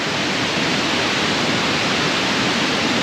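Water rushes at Mae Sa Waterfall in Chiang Mai with a dense, loud, unbroken hiss and roar that stays even throughout, with no other sounds standing out.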